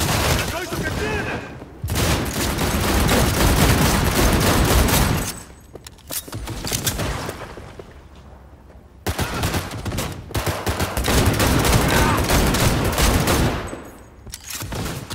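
Dense bursts of automatic gunfire in the video game Cyberpunk 2077, two long loud volleys separated by a quieter stretch, with voices heard faintly beneath.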